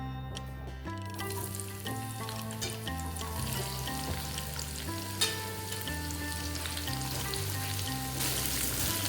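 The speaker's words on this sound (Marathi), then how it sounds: "आता ना ह्याच पॅन मध्ये आपल्याला ना 2 टेबलस्पून इतकं तेल घालून आहे ना कांदा छान असा खरपूस भाजून घ्यायचंय।" Onion fries in about two tablespoons of oil in a pan, a steady bright sizzle running throughout with faint stirring, while quiet music plays underneath.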